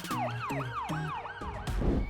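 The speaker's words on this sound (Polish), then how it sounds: "I syrenę policyjną na bagażniku." A police siren on a toy car wails in repeated rising and falling sweeps, loud and close, then gives way to a burst of electronic noise at the end.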